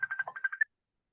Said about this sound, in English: Can you guys hear the ringing?